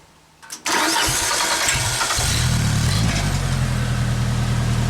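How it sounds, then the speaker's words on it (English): A small engine on a Genie lift, newly fitted with a throttle stop screw, cranks briefly and catches, then runs steadily and settles into a low, even idle, loud and close with no talk. "So now the thing actually starts and runs and idles down like it's supposed to."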